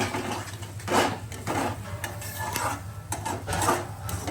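Ingredients for egg fried rice stir-frying in a pan, with a steady sizzle broken by repeated scraping, stirring bursts of a utensil against the pan, up close and fairly loud, with no talk.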